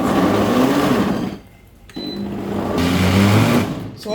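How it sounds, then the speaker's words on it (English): A kitchen blender whirs loudly as it blends a rough seasoning paste for ram meat, running steadily, briefly dropping off, then restarting for a second burst. "I'm going to go ahead and then blend it in our blender."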